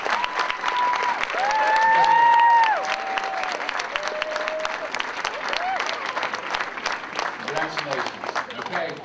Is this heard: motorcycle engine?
no